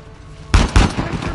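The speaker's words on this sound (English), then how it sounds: "Get off this bad boy now and shoot them." Gunfire in the video game Uncharted: The Lost Legacy, two loud close blasts in quick succession followed by a rumbling tail over quiet background noise.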